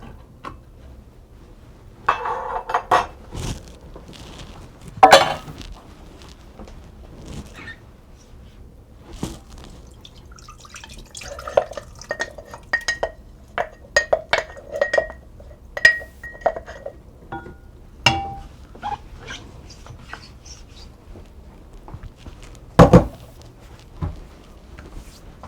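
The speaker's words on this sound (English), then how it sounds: "We're going to open our can of white turkey chili." Home-canned jar of white turkey chili being opened in a kitchen, with scattered clinks, taps and clatters of glass and metal, including a few sharp louder knocks spaced irregularly through the stretch.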